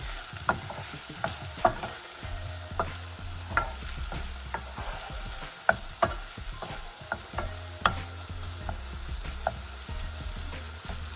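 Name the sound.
spices and green chilies cooking in a pan for eggplant bharta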